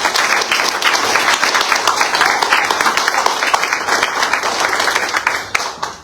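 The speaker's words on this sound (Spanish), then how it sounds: "Dale fuerte palmas a Dios." A church congregation applauds during a Spanish-language sermon: dense, sustained clapping from many hands fills the room at a steady level, then thins out near the end.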